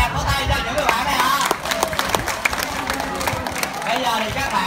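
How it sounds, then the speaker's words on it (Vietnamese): An audience claps for performing birds at a show, with dense, continuous applause and crowd murmur while a voice speaks over it. "xin hãy dành một tràng pháo tay cho những người bạn này ạ"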